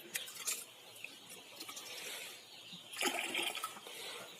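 Poultry medicine left in a container is shaken and poured into a bucket of water on a poultry farm, giving soft sloshing and then a brief splashing pour near the end.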